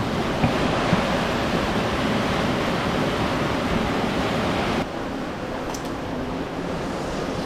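Loud, steady roar of rushing water echoing through an abandoned industrial site, a dense continuous wash that drops slightly in level partway through, with no voices.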